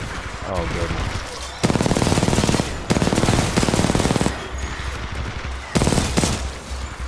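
Bursts of rapid automatic gunfire in Titanfall 2, loud and close, with rattling volleys broken by short pauses; a voice speaks briefly in between.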